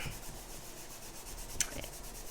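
Soft, steady rubbing across a cardstock surface to remove static, close and quiet, with one brief brighter scrape near the end.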